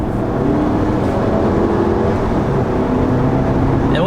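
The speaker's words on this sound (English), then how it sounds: "with the engine noises and the turbo, I hear a lot more feedback compared to my CLA 250" A 2019 Mercedes GLA 250's engine and turbo hum steadily from inside the cabin, a loud, continuous low drone with faint whirring above it.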